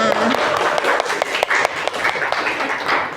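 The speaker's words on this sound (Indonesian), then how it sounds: "tepuk tangan buat kita semua" A school class applauds during a social studies lesson, a short burst of close, loud clapping mixed with overlapping voices.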